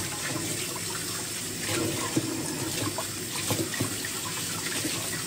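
Water pours and splashes steadily while dried octopus from Rodrigues island is rinsed and the rinse water is tipped away, a continuous close wash with small splashy bursts and no talking.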